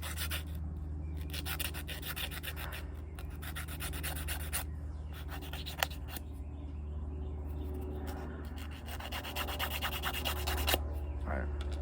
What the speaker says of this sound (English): Sand it some more.